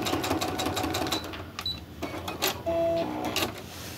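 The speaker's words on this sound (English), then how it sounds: "so just gonna sew just on that angle" Sewing machine stitching a seam along an angle on purple batik fabric for a crumb quilt block, running in quick mechanical bursts with short pauses, close and fairly quiet.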